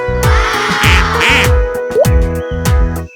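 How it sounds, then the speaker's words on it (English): A cartoon duck in a children's farm-animal song quacks loudly several times in a bouncy rhythm over musical accompaniment, close and clear. "Mother duck said, quack, quack, quack"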